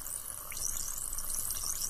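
Soft, continuous fizzing and crackling of an effervescent tablet dissolving in water, close up and steady.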